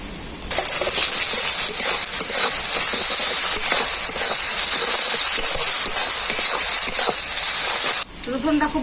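A loud, steady sizzle of garlic paste frying in hot oil, over onions, hisses for several seconds, then cuts off abruptly near the end.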